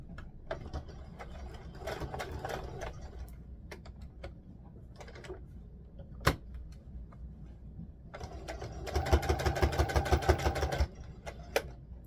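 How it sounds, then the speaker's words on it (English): A Brother Laura Ashley sewing machine, about ten years old, stitches a doll dress with a tulle overlay, its rapid mechanical whirring and clicking running in short bursts, the longest and loudest run coming near the end. "I'm using a Brother Laura Ashley sewing machine"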